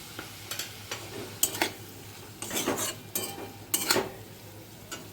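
Okra and eggplant stirred into hot spiced oil in a pan for a spicy bhindi and begun dish: a soft steady sizzle under a handful of close scrapes and clinks of a spoon against the pan, no talk.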